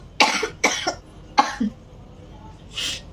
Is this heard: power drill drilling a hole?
no